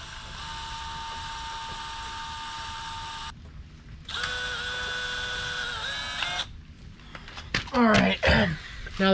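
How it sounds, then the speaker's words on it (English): A high-pitched electric drill whines in two bursts with a pause between, drilling holes in a homemade wooden fishing lure, followed by scraping and rustling handling noises. "I'm gonna just drill some holes."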